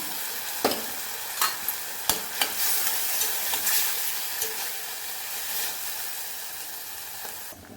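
Chana dal and snake gourd fry in a pan with a steady broadband sizzle, as a spoon scrapes and stirs with a handful of sharp clicks early on. It stays alone and close throughout.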